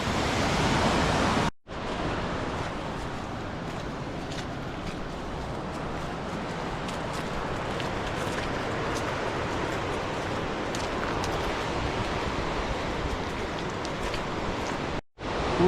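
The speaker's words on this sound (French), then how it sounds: "écouter le calme de la rivière" Steady broadband rushing of a river flowing on the Salkantay trek in Peru, continuous, loud and near, with two brief dropouts and no voices.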